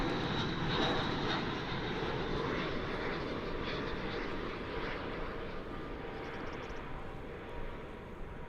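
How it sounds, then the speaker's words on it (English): An Airbus A319 airliner flying in to land at Dallas/Fort Worth airport, its engine roar loud and steady throughout, slowly easing off toward the end with no talk over it. "American Flight 1351. An Airbus A319, another one."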